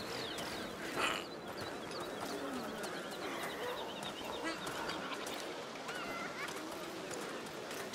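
Seagulls cry and squawk repeatedly through a busy outdoor scene in A Plague Tale: Requiem. The moderately loud, overlapping calls sound mid-distance over steady ambient noise.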